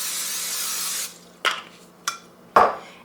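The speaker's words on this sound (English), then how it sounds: "You're gonna spray your pan" Cooking spray hisses steadily onto a skillet on a stovetop for about a second, followed by three short, sharp knocks and clatters of the pan or can, close and clear with no talk.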